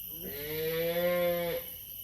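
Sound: cow mooing

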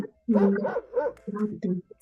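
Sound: dog barking

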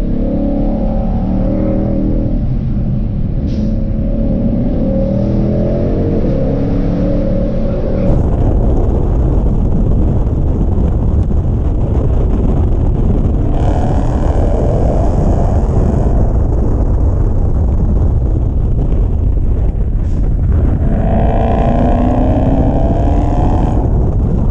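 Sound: 2020 Shelby GT500 engine downshifting on a mountain road

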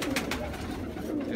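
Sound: pigeon cooing

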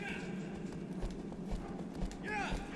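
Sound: horse hooves galloping in video game Shadow of the Colossus

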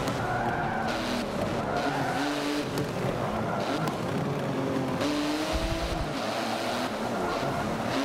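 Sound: BMW i8 race car skidding in Forza Motorsport 7 video game

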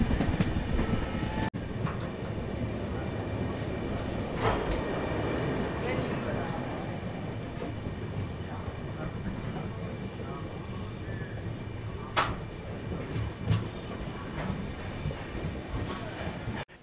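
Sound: Tuticorin Express passenger train running on rails

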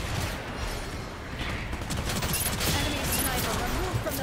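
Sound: gunfire from shooting in the video game Gundam Evolution

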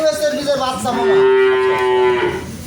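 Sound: cow mooing

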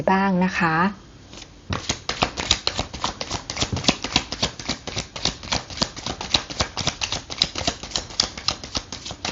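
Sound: tarot cards being shuffled and drawn

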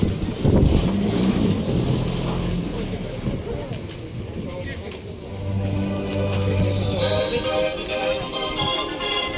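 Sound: Soviet ZAZ Zaporozhets retro car driving

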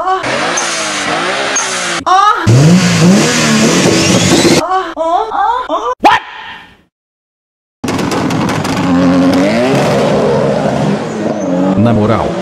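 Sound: Nissan Skyline car engine revving

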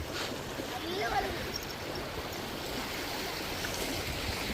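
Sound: river water flowing

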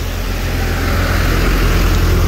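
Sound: Hyundai Avante 2013 car engine running

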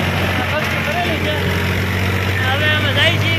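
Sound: tractor engine driving on road

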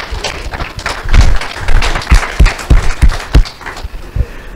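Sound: audience applause

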